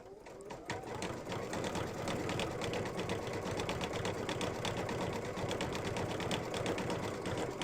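An embroidery machine stitches yellow fill inside the windows of a mug rug, its needle running in a fast, steady rhythmic patter throughout, close and continuous.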